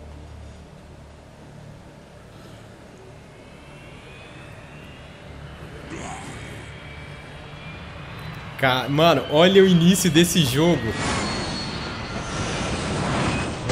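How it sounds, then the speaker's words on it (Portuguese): An airplane engine drones and rises in the opening of the Dead Rising 3 video game, growing louder before a burst of heavier roaring and rumbling noise takes over, while someone talks over it. "Um avião, mano."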